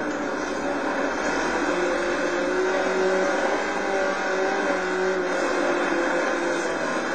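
An off-road race car engine in the video game Baja: Edge of Control roars continuously at high revs, a loud, sustained mechanical drone with a buzzing edge and no speech.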